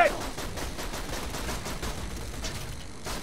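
Rapid gunfire in the video game Borderlands 2: a continuous burst of quick, sharp shots running for several seconds at a moderate level, with no speech.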